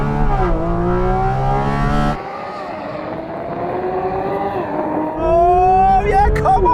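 A Porsche 911 GT3 RS and a GT4 RS accelerate hard side by side in a drag race, engines loud and close, revs climbing through gear changes with a brief dip before surging again.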